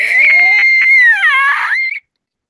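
A person imitates a deer's cry with a loud, high, quavering scream held close to the microphone for about two seconds, wavering in pitch before cutting off abruptly.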